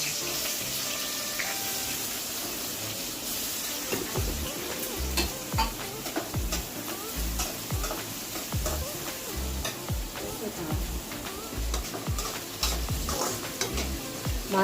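Onions fry in hot oil with a loud, steady crackling sizzle. Repeated scraping and knocking of a spatula against the pan runs through much of it.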